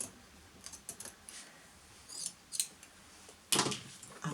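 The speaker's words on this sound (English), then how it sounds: "I'm going to use my duckbill applique scissors for this." Duckbill applique scissors snip through wadding over stabiliser, giving a few quiet, short cuts scattered through near silence and one louder snip near the end.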